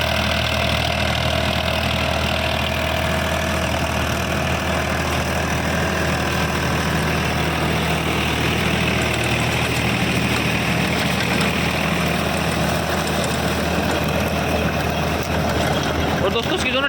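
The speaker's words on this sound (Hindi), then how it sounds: "और बाकी देखो ट्रैक्टर जो ना बढ़िया चल रहा है" Tractor engine running steadily while ploughing a field, a continuous low, even drone with a broad rumbling hum throughout, no strain or load changes.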